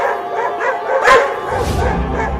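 Cartoon dogs bark and yip in a quick, loud burst under and between animated voices.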